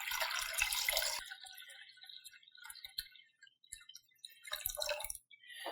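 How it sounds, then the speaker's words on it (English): Tap water pours into a Buydeem electric steamer for about a second, a bright rushing stream that cuts off abruptly. Scattered drips, light clinks and handling noises follow in a quiet room. "I'm going to go ahead and fill this up with some water up until close to the max line."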